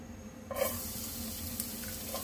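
Cooking oil being heated in a pan for sautéing garlic and onion for macaroni soup, with a steady broadband sizzle that rises sharply about halfway through and holds on, close and moderately loud, with no talking.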